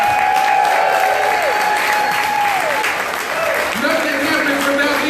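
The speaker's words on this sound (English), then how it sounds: "Everybody give the leaders of this program a round of applause." Loud audience applause fills the room, steady throughout, with tonal whistles or cheers and voices rising through the clapping.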